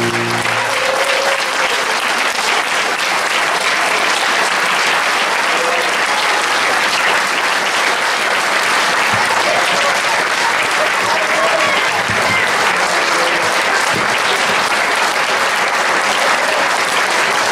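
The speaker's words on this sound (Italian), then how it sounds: "davvero un applauso speciale per questi ragazzi meravigliosi" Sustained audience applause after a concert, dense and steady clapping filling the whole stretch, with a few faint voices in the crowd.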